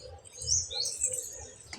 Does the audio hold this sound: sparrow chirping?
yes